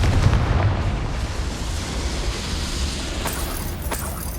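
A Confringo spell explosion in Hogwarts Legacy, a heavy booming blast at the start that rumbles and fades into a noisy wash, followed by a couple of faint later pops.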